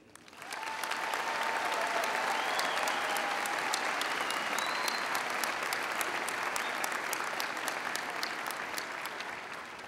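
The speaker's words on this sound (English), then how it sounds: "let's have a round of applause for all of us graduating" A large crowd applauds at a University of Kentucky undergraduate commencement, dense sustained clapping that starts suddenly and fills a big hall, with a few faint voices mixed in.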